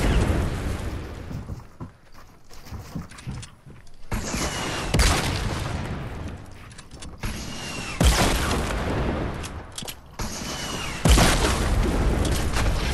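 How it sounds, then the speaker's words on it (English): Rocket launcher explosions in a video game firefight: several heavy booming blasts at intervals over a dense rumbling, mechanical battle din, loud and close with no talk. "Hit him with the rocket launcher."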